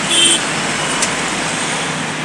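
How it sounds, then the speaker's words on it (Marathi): Steady, dense roar of congested traffic on the Pune–Bangalore highway, with close engine rumble and road noise continuing without a break and no talking. "पहा मित्रांनो केवढं ट्रॅफिक लागलेलं आहे"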